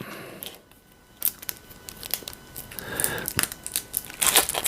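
Plastic resealable comic book polybag handled up close: irregular crinkles, rustles and small crunches, quiet at first and louder toward the end.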